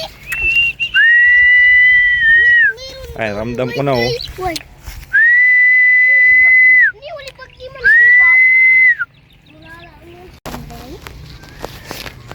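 A person whistles long, steady high notes in three drawn-out blasts while flying a kite outdoors, with bits of nearby talking and rustling between them.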